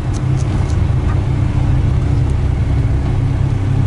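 Engine of a 1987 Toyota standard pickup idling steadily and quietly, a constant low rumble with a cooling fan running on high throughout, close by and without speech.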